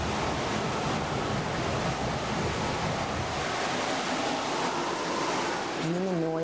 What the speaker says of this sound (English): It's the sound of waves surging through the first floor of the house